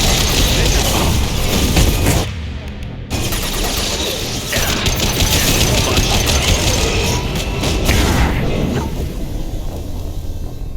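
Heavy weapons fire in a Mass Effect 2 battle, a dense and sustained roar of shots and blasts with a brief dip in the middle, while voices talk over the loud combat.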